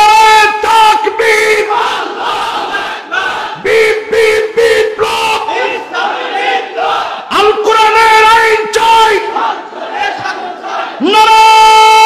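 A large crowd at a religious gathering loudly chants the takbir in repeated rhythmic calls, the massed voices rising and falling together in strong unison bursts with brief gaps between them.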